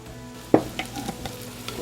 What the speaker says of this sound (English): we're just going to give those a stir and let them get kind of soft